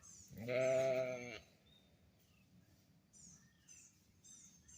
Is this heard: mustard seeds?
no